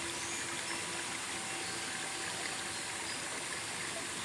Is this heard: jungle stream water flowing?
yes